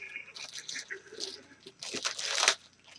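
Plastic bag being torn open in a workshop, with crinkling and ripping noises building to a louder tearing burst near the end.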